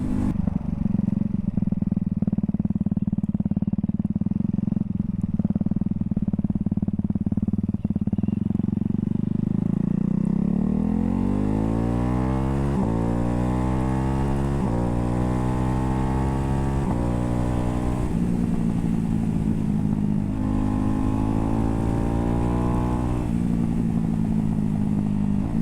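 Ducati Hypermotard 698 Mono single-cylinder motorcycle on a road ride, its loud engine droning, then revving up through rising pitches with audible gear shifts and wind noise throughout.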